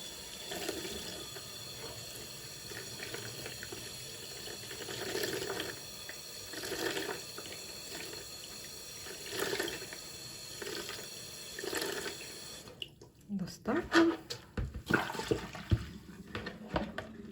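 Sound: running tap water rinsing

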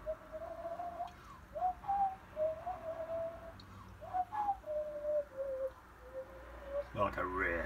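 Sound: voice imitating a sad bird call

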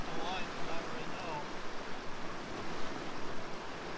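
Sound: fast-flowing stream water

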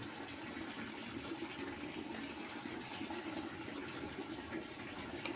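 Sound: water flowing in a flooded courtyard after sudden rain

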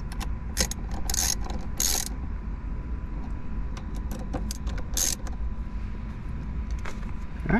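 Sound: ratchet tightening bolts on a 2016 Miata

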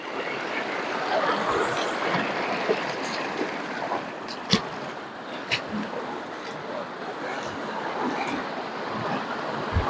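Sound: waterfall rushing water at Nandyal falls

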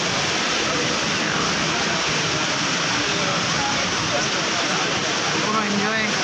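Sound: water fountain spraying in a mall

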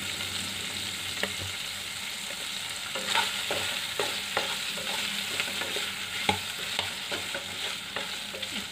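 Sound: chicken liver frying and being stirred in a pan

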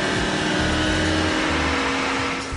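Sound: car engine under load on a dynamometer, run through gears

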